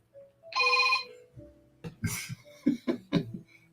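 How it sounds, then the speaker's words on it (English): A phone rings with one sustained electronic ringtone burst near the start, followed by a few short throat-clearing and coughing sounds close by. "It is my phone ringing right now."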